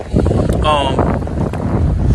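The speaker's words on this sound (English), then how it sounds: "Might be a little too windy" Wind buffets the microphone with a steady low rumble throughout, under a voice speaking.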